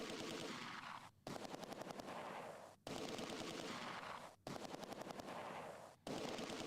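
A Vickers machine gun in the World War II game Close Combat 2: A Bridge Too Far fires long, loud, sustained bursts of rapid, even shots, split by brief pauses into four close strings of fire.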